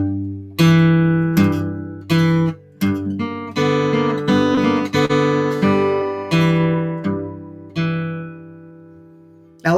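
A guitar plays a blues exercise line with pinched notes on the sixth and third strings, ringing phrases separated by brief pauses and a final note left to decay, heard clearly with no talking.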